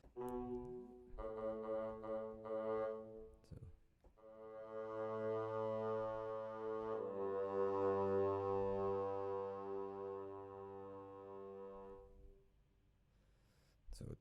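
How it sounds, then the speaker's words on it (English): Low, rich bassoons play Erik Satie's Gnossienne no.1 in a slow melodic phrase with sustained reedy notes. It is quiet and alone, with no voices, and it fades after a long held passage. "So the bassoons, they are like super low and they sound really rich."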